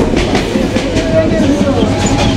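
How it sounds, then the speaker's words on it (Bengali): Madhumati Express train in Bangladesh running at high speed, a steady loud rumble of wheels on rails with rhythmic clickety-clack and faint wheel squeal, heard from on board. "দেখেন দুর্দান্ত গতিতে ছুটে চলছে আমাদের মধুমতি এক্সপ্রেস।"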